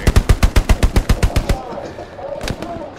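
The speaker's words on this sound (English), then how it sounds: "There's enough bullets flying in different directions." A loud, rapid burst of about a dozen machine-gun shots rings out up close in the World War II shooter Hell Let Loose, followed by scattered distant gunfire and one more sharp shot.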